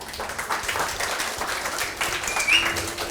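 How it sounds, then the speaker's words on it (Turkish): A short burst of scattered hand clapping from a small group of primary school children at a school drama activity, lasting a few seconds. "Alkışlıyoruz Alican'ı."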